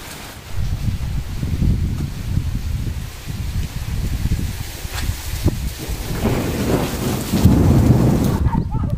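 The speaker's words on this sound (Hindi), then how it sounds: "धूप भी और बारिश भी, भाई कमाल है ये मौसम।" Steady rain falls during sunshine while thunder rolls low and rumbling beneath it, a continuous wash of drops with deeper swells of thunder building toward the end.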